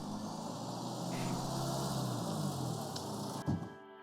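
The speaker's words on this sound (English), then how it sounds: "loud car" A loud car passes close by outdoors, a broad steady rush of road and engine noise that swells and then cuts off near the end, with no talking.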